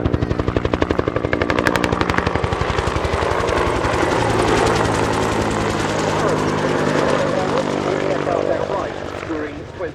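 A Bell UH-1 Huey helicopter in olive drab US Army livery flies at an airshow with a loud, steady rotor thump that is sharply pulsed at first, then smooths into a continuous roar before easing slightly at the end.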